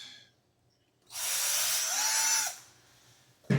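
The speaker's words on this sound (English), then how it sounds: "I need to drill that out." A power drill whirs briefly and loudly for about a second and a half as it bores out a Dubro quick connect on an RC plane build, followed by quiet and a sharp clack at the end.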